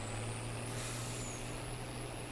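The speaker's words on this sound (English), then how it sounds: "I just noticed this tractor totally sounds like it has air brakes." Air brakes on a tractor in Farming Simulator 22 give off a hissing release over the steady low drone of the idling engine, with no one speaking.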